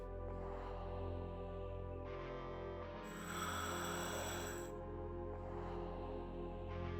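Heavy breathing in the video game Mission Critical: slow, rasping, rhythmic breaths that swell and fade over a constant low electronic hum, fairly quiet and with no talk.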